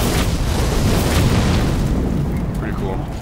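A weapon art explosion in Dark Souls III, The Ringed City DLC, during the Demon Prince boss fight: a sustained, loud, rumbling blast with roaring low-end fire that fades slightly at the end.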